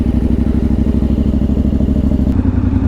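A motorcycle rides along a mountain road, its engine pulsing in a fast, regular throb with clattering mechanical texture, loud and close throughout.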